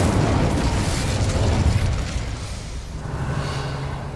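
Incendio fire spell cast in Hogwarts Legacy, a loud continuous roaring burst of flame that holds steady for about two seconds and then settles into a lower, crackling rush.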